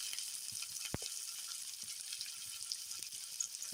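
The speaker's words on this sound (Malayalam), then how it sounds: "സവാള വഴറ്റി കൊടുക്കുക" Onion sautéing in oil with garlic gives a soft, steady sizzle, with a brief clank and a few light stirring scrapes over it.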